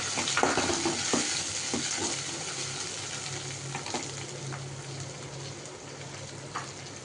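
Tomatoes frying in a pan for a Chettinad gravy sizzle steadily up close, with scattered scrapes and taps of a spatula stirring through the hissing oil.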